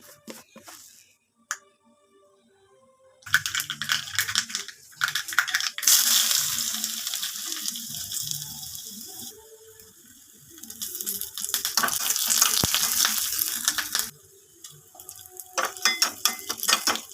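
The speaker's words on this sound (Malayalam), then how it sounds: "ഇനി നമുക്ക് ഇതിനകത്ത് ഇച്ചിരി കടുക് വറുത്തിടാം." Mustard seeds frying in hot oil for a prawn and drumstick thiyal, a loud crackling, popping sizzle that swells in two long bursts after a quiet start, with occasional clinks.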